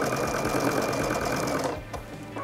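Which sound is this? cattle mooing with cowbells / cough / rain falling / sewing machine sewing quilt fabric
sewing machine sewing quilt fabric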